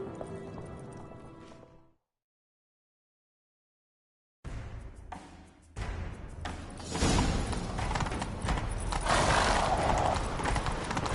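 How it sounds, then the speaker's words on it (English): Galloping hooves clip-clop at a steady pace after a brief silence, growing louder and busier with thuds and a horse's whinny, in a chase scene from The Witcher 3: Wild Hunt. "Grab a horse, we'll chase him down."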